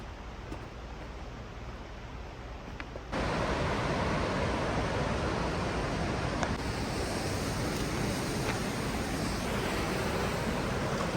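Rushing river water on the trail toward Mist Falls in Kings Canyon, a steady broadband roar that grows louder partway through and continues unbroken and close.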